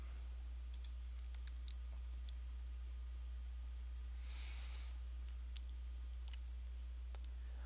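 A few faint, sharp computer mouse clicks come at scattered moments over a low steady hum while a Canadian payroll deduction report is opened in software, with no one talking.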